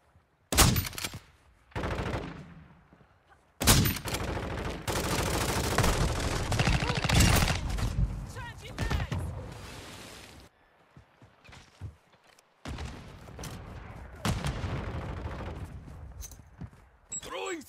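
Bursts of rapid automatic gunfire from Call of Duty: Modern Warfare, loud and close, in several sustained volleys broken by short gaps, with some talk mixed in.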